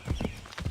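A horse's hooves clip-clop in the Assassin's Creed 3 video game, a few quick, soft thuds in an uneven gait, faint and close, with no speech.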